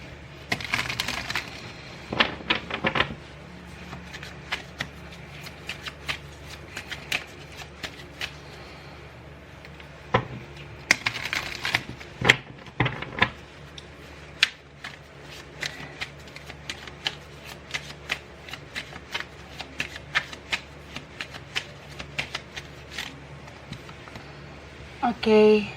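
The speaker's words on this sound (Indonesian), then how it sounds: "aku shuffle kartunya" Tarot cards shuffled by hand during a general card reading, a long run of soft rapid riffling and flicking bursts with brief pauses, close and fairly quiet under a low background hum.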